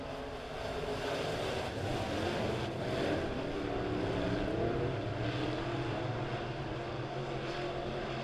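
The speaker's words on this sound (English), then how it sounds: "Green flag is out, and we're racing." Dirt track B-Modified race cars during a heat race at Springfield Raceway, heard as a dense, steady engine roar from several cars at a distance, broad and constant with no clear talking.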